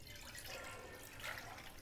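Water pours steadily into a cooking pot to boil taro stolons, a soft continuous splashing and trickling, faint and close, with no voices.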